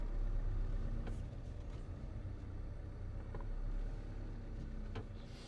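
A 2013 Fiat Doblo XL 1.6 diesel with a particulate filter fault idles steadily, a low, even engine rumble close by with a few faint clicks and no voices.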